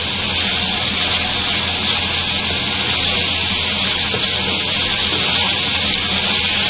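Ground green chili paste frying in a pot for beef pulao, a loud, steady, dense hiss of sizzling oil that holds without pause throughout, close up.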